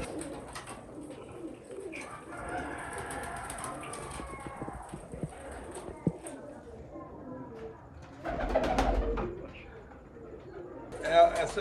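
Pigeons coo in a loft, a low murmuring chorus running steadily throughout, with people talking over it and some handling noise and bumps near the end.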